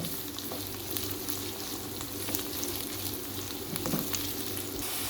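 Garlic ginger paste frying in oil in a pan: a quiet, steady sizzle with soft crackles and an occasional light stir, heard alone without any talking.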